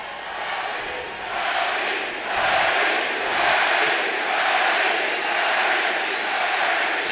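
Arena crowd at a Manny Pacquiao versus Timothy Bradley boxing bout roars and cheers steadily as Pacquiao enters, a dense, sustained wash of voices that swells slightly after the first couple of seconds.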